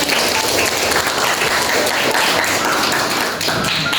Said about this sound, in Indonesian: Oke, give a applause for them.